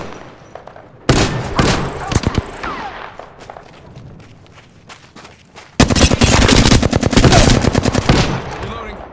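Video-game gunfire hits the player in rapid automatic bursts: a loud volley, scattered shots, then a long sustained barrage near the end, with game voice lines in between.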